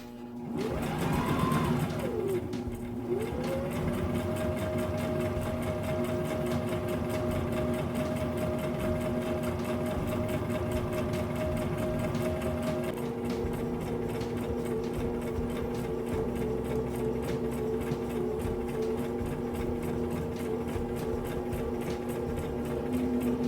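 A sewing machine stitches a cotton flannel pillow, running steadily and continuously at close range with a constant mechanical hum and rapid needle rhythm, no talking over it.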